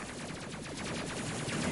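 Tail gunner in the space combat game Space Crew firing a steady stream of rapid, crackling shots at enemy waves, the bursts continuous and dense for the whole stretch.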